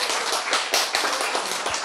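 An audience at a lecture claps together, a dense steady patter of hands that holds at an even, fairly loud level for under two seconds with no talking.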